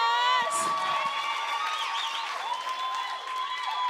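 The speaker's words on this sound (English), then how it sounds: "Let's give Keenan a round of applause." A cafe audience at a ten-year celebration evening applauds steadily, with cheers and whoops riding over the clapping throughout.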